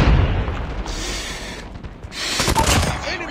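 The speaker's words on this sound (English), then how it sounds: "Friendly predator missile inbound." A predator missile strike in Call of Duty Mobile lands as a loud, broad explosive roar with rumbling gunfire-like bursts, swelling again toward the end, with faint in-game voice beneath.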